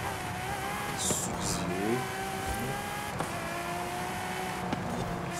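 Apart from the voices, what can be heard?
Ferrari race car engine accelerating in video game Forza Horizon 5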